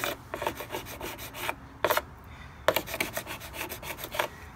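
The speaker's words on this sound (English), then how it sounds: "I'm just gonna kind of scrape off as much of the loose clear as I can" Repeated rough scraping strokes rasp across the paint of a 1990 Mazda Miata, taking off loose clear coat in uneven bursts, close and moderately loud, with short pauses between.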